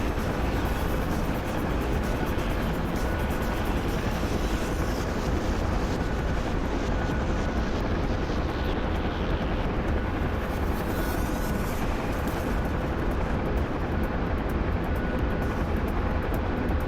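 Aircraft engine droning in flight in a war video game, a loud, constant, broadband roar that holds steady without letup, close and enveloping, with no voices over it.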